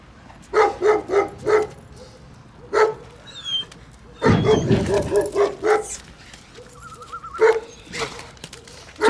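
A Central Asian Shepherd dog barks in loud, close bursts: three or four quick barks, a single bark, then a longer run of barking, with a short whine between and one more bark near the end.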